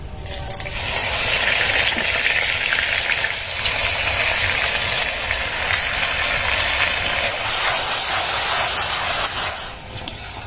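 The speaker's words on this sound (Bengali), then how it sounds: "কড়াইতে তেল গরম হয়ে গেছে, এবার তেলের মধ্যে দিয়ে দিচ্ছি পেঁয়াজ বাটা।" Onion paste hits hot oil in a wok and sets off a loud, dense hissing sizzle that runs continuously and almost unchanged before easing slightly at the end.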